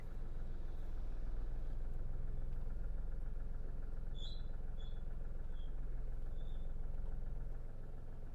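A car engine idles steadily and fairly quietly while the car reverses slowly onto a sloped porch, a low continuous hum with faint chirps in the background.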